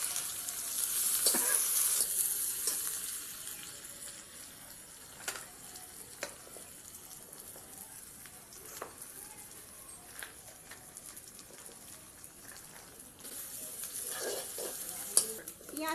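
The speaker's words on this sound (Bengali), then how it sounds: "পেঁয়াজটা আমি একটু লাল লাল করে ভেজে নেব।" Finely chopped onions fry in a pan with a faint, steady sizzle, punctuated by scattered clicks and scrapes of stirring, and the hiss swells slightly at the start and end.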